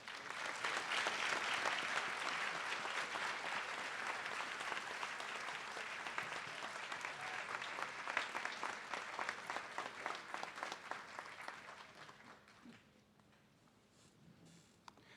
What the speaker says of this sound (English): Let's give Austin one more round of applause.